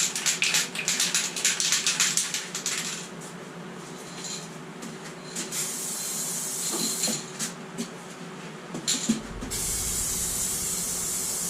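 A spray gun applies one thick coat of crackle paint to a guitar body in a spray booth, giving a continuous close airy hiss with bursts and pauses, later joined by a low steady hum.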